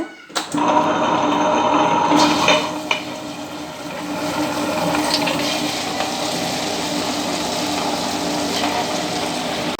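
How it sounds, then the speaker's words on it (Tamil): A wet grinder runs, grinding soaked urad dal into batter for medu vada. After a short clatter as it starts, a steady, loud whirring and churning drone continues on its own, close by. "இருபது நிமிஷத்துலேருந்து இருபத்தஞ்சி நிமிஷம் ஓட விடுங்க மிஷின் கிரைண்டரில் கிரைண்டர்லேயே போடுங்க"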